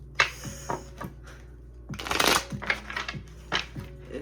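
A deck of cards is shuffled close up, with several quick riffling bursts and one longer, louder flutter in the middle, separated by brief pauses.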